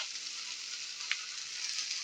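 Tomatoes and tamarind sauté in a hot pan for a spicy chutney. They give off a steady, close sizzle with one sharp pop partway through and no talking.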